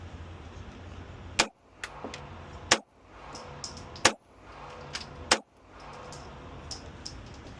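Spent shell casings eject and land with sharp, bright metallic clinks, about five separated impacts spaced roughly a second or more apart over a faint background hiss, with no talking.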